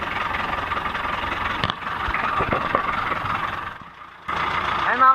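A converted jeep engine, a Mitsubishi 4DR5, runs in a fishing boat with a steady, loud droning hum that dips briefly near the end and then returns, along with a few clanks and knocks.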